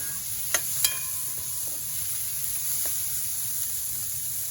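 Ingredients for pancit sauté in a pan still greasy from cooking pork, giving a steady, close sizzle with a couple of sharp utensil clinks near the start.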